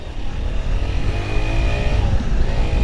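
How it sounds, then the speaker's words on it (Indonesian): A borrowed motorcycle rides along roads around Telaga Sarangan lake in the morning, its engine droning loud and steady close to the microphone with rising and falling revs. "tadi dapat pinjaman motor ya teman-teman dari mas-mas yang jaga hotel"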